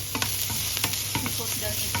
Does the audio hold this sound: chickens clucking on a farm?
no